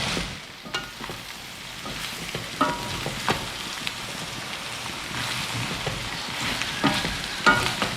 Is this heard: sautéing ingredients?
yes